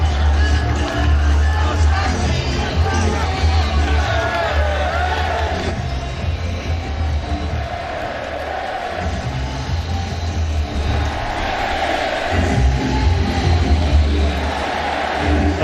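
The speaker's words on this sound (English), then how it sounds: "A sellout crowd here at Piscataway" Sellout stadium crowd at a college football game between Michigan and Rutgers in Piscataway, a loud continuous roar of cheering and whooping that swells and dips over about fifteen seconds.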